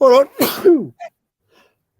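A person sneezes loudly and close up, a single burst with a sharp intake, while people chat on a sports podcast around it.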